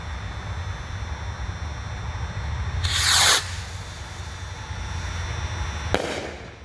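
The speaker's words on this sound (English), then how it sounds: "We're gonna light off some skyrockets in it and see how this baby works." Mad Ox Sun Ring skyrockets launch and burst over a steady background hiss: a loud bright whoosh-burst near the middle and a second sharp crack toward the end.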